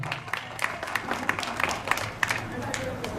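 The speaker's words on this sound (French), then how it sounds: "je vous demande une fois de plus d'applaudir très très fort." Applause from a gala audience in Sévaré, a steady patter of claps with some sharper hand strikes throughout, with voices mixed in underneath.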